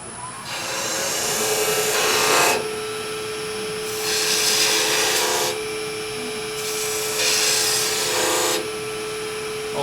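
Skew chisel cutting wood on a spinning lathe, a continuous hum with three bright scraping cuts of one to two seconds each, loud and close.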